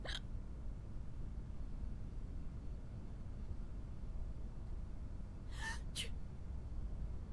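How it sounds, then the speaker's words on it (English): A patient character in a zombie quarantine video game gives two quick, breathy hiccup-like gasps near the end, faint over a steady low background hum, with a similar brief sound at the very start. "Okay, sneezing and hiccups."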